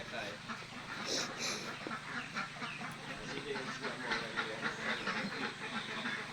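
Ducks quacking on a duck farm as the ducks are being loaded out for sale, a faint scattered chorus of calls over a steady low hum.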